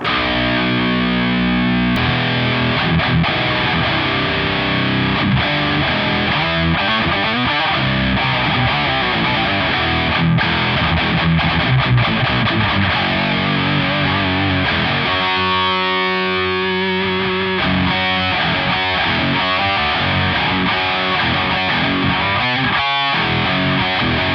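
Distorted electric guitar run through a new Digitech preamp pedal, playing a steady, loud stretch of chords and riffs with no talking.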